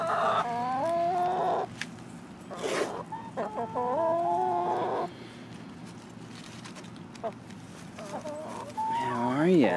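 Backyard hens cluck and call repeatedly while being fed cabbage and bread, with several loud tonal squawks at varying intervals and a person speaking quietly now and then among them.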